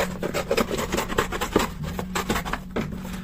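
Cardboard flaps trimmed off while building a cardboard Toby jug: close, rough scraping and rasping cuts in short uneven strokes, fairly loud and with no voices.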